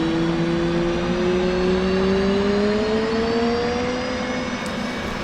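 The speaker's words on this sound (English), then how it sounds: "whilst that engine's running up" An F/A-18 jet engine spools up during startup in the DCS World flight simulator, a loud, continuous whine that climbs steadily in pitch over a constant roar, with no talking.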